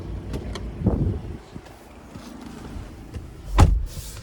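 Getting into the driver's seat of a 2023 Maserati Grecale Modena on a cold day: a few soft thumps and rustles as someone settles in, followed by a sharp, loud door thud near the end, with no talking.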